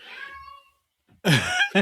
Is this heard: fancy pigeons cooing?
no